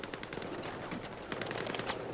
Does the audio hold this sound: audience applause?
no